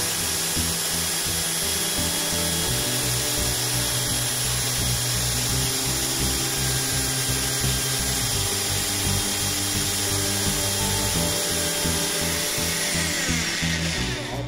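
A Parkside PBH 1550 A1 SDS-Plus rotary hammer drives a 35 mm Forstner bit into wood, a loud, sustained whirring grind that runs close and continuous with slight pitch changes as the bit bites.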